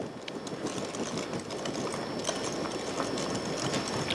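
Instant pistachio pudding mix is whisked in a bowl, giving a continuous fast scraping and ticking rattle at a steady moderate level.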